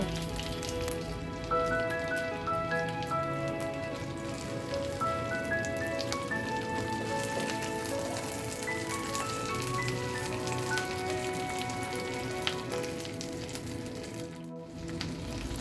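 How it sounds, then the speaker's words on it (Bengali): Chicken chap deep frying in oil over low heat, a dense, even crackling sizzle like steady rain that runs continuously and close throughout, with faint tonal background music and no talk. "এই পর্যায়ে চুলার হিট লোতে রেখে একদম ডিপ ফ্রাই করে নেব।"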